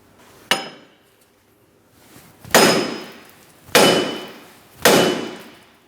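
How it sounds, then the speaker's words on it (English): A hammer strikes a 2003-2007 Cadillac CTS front wheel bearing hub assembly four times, loud ringing metallic clangs spaced about a second apart, each decaying with a bright ring, with no talk. "A hammer might be the tool you'll need. If that's the case, we're going to be tapping on this,"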